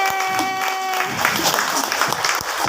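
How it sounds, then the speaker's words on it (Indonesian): An audience breaks into applause at a gathering, a brief sustained tone fading as a dense burst of clapping fills the room and holds to the end. "Tepuk tangan Bapak Ibu"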